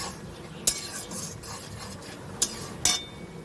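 Onions browning with whole garam masala in a pan, stirred with a spoon: a few sharp scraping clicks against the pan over a soft, continuous sizzle, with no voices.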